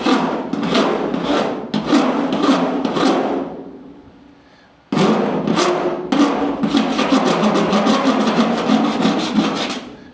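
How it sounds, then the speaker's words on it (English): A hand tool shaves excess metal left after spot welding during dent repair, producing rapid, rhythmic rasping scrapes that are loud and close, with a brief fading pause midway before the strokes resume. "we'll use this to just shave off that excess metal there"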